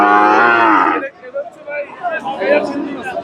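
A small young bull calf, about three and a half months old, lets out a loud, close moo that lasts about a second, followed by people talking nearby.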